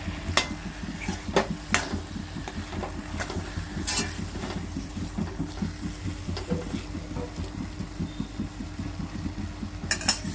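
A spoon scrapes and clacks repeatedly around a pan of gently sizzling aloo curry with coriander, close up, with irregular stirring knocks over a low frying hiss and no talk.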